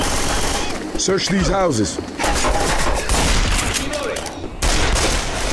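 Rapid bursts of automatic gunfire in the zombie shooter Left 4 Dead 2, loud and nearly continuous with sharp cracks, while a character speaks over the shooting.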